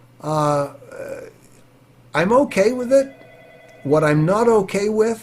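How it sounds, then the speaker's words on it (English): A mobile phone rings faintly as a steady electronic tone beneath someone speaking in an interview, partly masked by his voice. "that's my phone, so don't worry about it, it'll stop."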